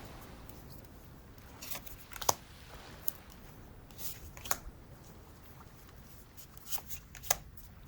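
A deck of tarot cards is shuffled by hand, giving soft papery riffles and sharp snapping clicks at irregular intervals, close-up and moderately quiet, with no talking.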